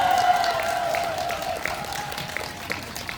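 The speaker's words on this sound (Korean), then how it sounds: "다시 한번 더 큰 박수 한번 치겠습니다" Festival crowd at an outdoor opening concert clapping together, a sustained wash of applause with a faint lingering musical tone beneath, steady and moderately distant.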